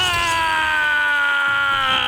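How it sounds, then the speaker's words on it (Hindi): A man screams in fear in a dramatic dubbed film scene: one long, loud, strained cry held steady and slowly sliding downward in pitch, with no other voices. "अबे चीख रहा तू?"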